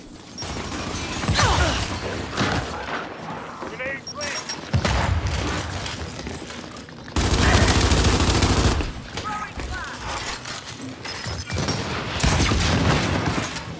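Gunfire in Gears 5 dodgeball on the Asylum map comes as dense bursts of loud automatic shooting and heavy booms with mechanical clanks, broken by brief lulls, while players talk and shout over the action.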